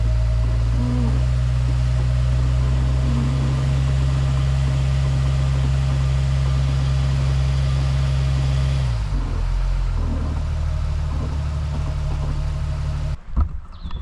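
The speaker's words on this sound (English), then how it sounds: "I'm gonna give it a little bit of gas here. So I'm doing a brake stand here a bit" A Jeep Wrangler with a rough idle, in gear and held on the brakes, steady deep engine drone under light throttle for about nine seconds, then the pitch shifts as revs change before cutting off abruptly near the end; no talking.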